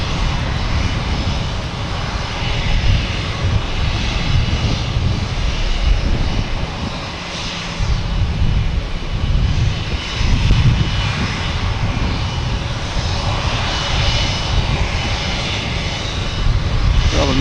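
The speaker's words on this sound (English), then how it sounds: "we have the American Airlines heading to LaGuardia. That won the race." American Airlines Embraer E-170 jet taking off at Boston Logan Airport, a loud continuous engine roar with broad rumbling noise that swells and holds throughout.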